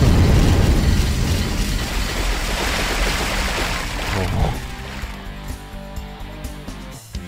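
An explosion set off by the explosion cheat in the RollerCoaster Tycoon video game: a loud rumbling blast that slowly fades into a quieter tail with scattered pops and debris-like clatter.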